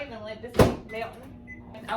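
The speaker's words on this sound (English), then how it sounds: "I'm going to go ahead and put it in the microwave and let this melt" A kitchen microwave oven starting up to melt a stick of butter: a sharp click or clunk of the door or button, then a low steady hum with faint whirring, fairly close.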